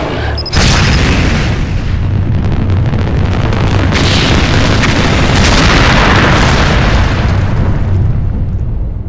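An explosion in the video game The Sum of All Fears, starting with a sudden huge boom and then a loud, sustained roaring rumble that fills the whole stretch without easing.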